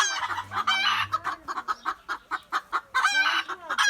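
Red-and-black porcelain İspenç rooster clucking close by: a rapid run of short, sharp clucks with a couple of longer, louder calls at the start and end.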